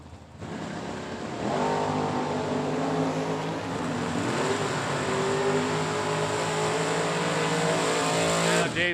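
Drag race cars, including Dave Lorenz's little red 1967 Chevy, launch hard at a drag strip, a loud sustained engine roar rising in pitch as they accelerate away, with the crowd and track ambience underneath.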